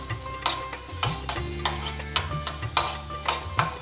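Raisins roast in a pan in residual heat, a soft low sizzle punctuated by sharp, regularly spaced clinks and scrapes of a spoon against the metal, close and without voices.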